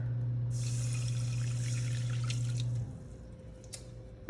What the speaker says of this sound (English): You're going to add your 1 cup of water.